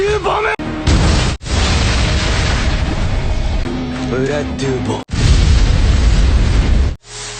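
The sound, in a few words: magic explosion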